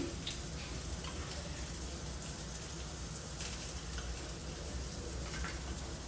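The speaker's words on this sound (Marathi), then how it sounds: "पॅनमध्ये आता आपण तेल घालूया त्याच्यामध्ये थोडं बटर घालायचं आपण" Oil and butter sizzle steadily in a pan while preparing restaurant-style matar paneer, a continuous dense frying hiss with occasional stirring scrapes throughout, no talking.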